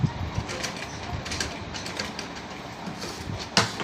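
A sewing machine stitches a frock, producing a soft, continuous mechanical clatter at moderate distance, steady with small ticking pulses and no talk.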